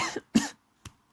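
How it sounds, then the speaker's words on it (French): A person with a lingering cough coughs three times, close and fairly loud. Two quick coughs come first, then a shorter third one after a pause. "j'ai toujours ma toux"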